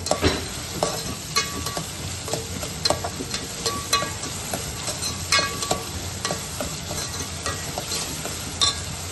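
Onions frying in a pan while being stirred, with salt added: a steady sizzle throughout, broken by frequent sharp clicks and scrapes of the spoon against the pan, close and fairly loud, no voices.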